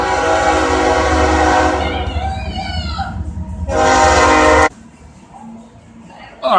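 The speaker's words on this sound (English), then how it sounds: "One moment, train's coming by." A passing train roars loudly with its horn blaring in long sustained blasts, the sound rising, briefly easing and then cutting off abruptly, with faint talk underneath.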